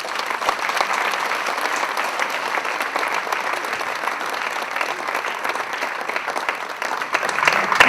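Loud, sustained applause from an audience fills the room at an official opening ceremony, a dense even clatter of many hands that holds steady and swells slightly at the end.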